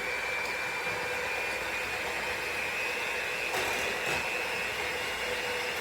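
An electric mixer whirs steadily through zucchini spice cake batter. It gives a loud, continuous motor whine at an even pitch with no pauses and no talking.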